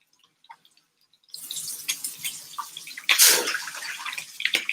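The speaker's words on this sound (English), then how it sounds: "I'm gonna put some water to boil for macaroni." Tap water running into a small kitchen pot for boiling macaroni, a steady close splashing stream that starts abruptly after silence and gets briefly louder partway through.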